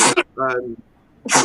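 A single short sneeze sounds between snippets of nearby conversation, close to the microphone.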